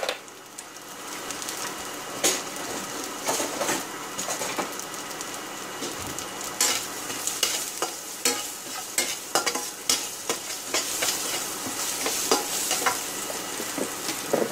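Garlic, salt and beef bouillon sautéing in a pan, a busy sizzle with frequent sharp clicks and scrapes from vigorous stirring, close and fairly loud with no speech over it.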